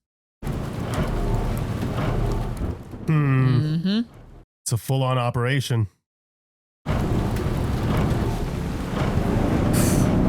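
Heavy rain and storm rumble from a tense night scene in a TV drama, a steady broadband wash interrupted by stretches of spoken dialogue and a brief silent cut, with talk laid over the downpour.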